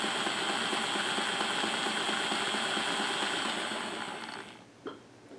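An old Mantua 0-4-0 model locomotive runs steadily with a quiet, even mechanical whir and hum, close by, then slows and fades near the end with a small clunk.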